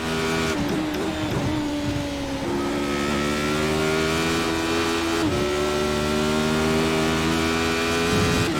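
A Radical SR8 race car engine screams at high revs around Monza in the iRacing simulator, a steady harmonic whine that dips with two quick gear changes and then climbs again, loud and continuous with no talk.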